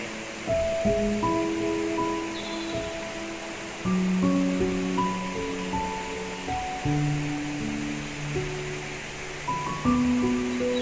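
Tad Chalae waterfall near Muang Hun, a broad, steady rush of falling water filling the scene throughout, overlaid with scattered bird-like tones and chirps.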